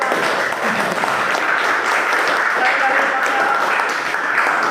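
Classroom audience applauding, a dense continuous patter of many hands clapping at steady loudness, with a voice speaking over it.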